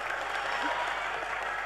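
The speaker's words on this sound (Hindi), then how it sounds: "तालियां कमजोर आई आपकी, फिर एक बार कोशिश करिएगा।" A crowd at a Hindi poetry recital applauds steadily, a dense, even wash of clapping throughout.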